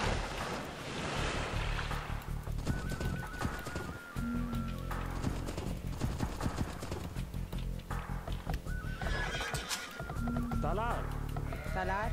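Sheep in the Age of Empires II video game bleat in short calls, heard twice amid game clip-clop and ambient sounds, partly under someone speaking.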